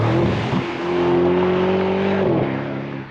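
An Aston Martin DB12 Volante, a 671 hp grand tourer, accelerates hard close by, its engine note climbing through a gear, dipping at a shift, then climbing again with a loud steady roar and no voices.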